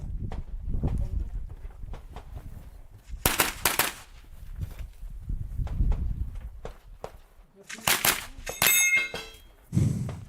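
Pistol-calibre carbine shots ring out at an IPSC match in France, several sharp bursts with metallic clangs from steel targets between them, mixed with footsteps and movement, at moderate distance.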